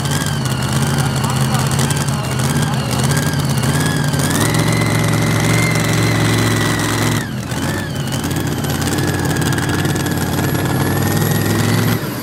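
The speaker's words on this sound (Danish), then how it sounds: "Ja, og det er en helt ny bygget traktor." A newly built modified pulling tractor engine roars loudly and steadily at a tractor pulling event in Brande, Denmark, with a brief dip midway before the roar resumes, and a voice talks over it.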